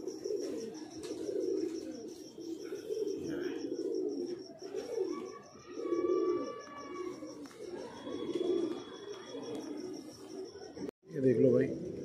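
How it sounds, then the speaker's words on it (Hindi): Domestic pigeons coo in low, rolling bursts throughout, close by and fairly steady, with chirps overhead and a steady high whine in the background; a thump near the end. "ये रहे कबूतर भाई, ये हमारे उस्ताद जी छप्पे खड़े हुए हैं"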